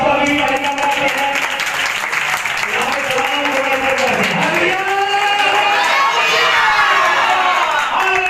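A large audience at a Sukkot gathering bursts into loud, sustained applause with cheering and crowd noise, filling the whole stretch.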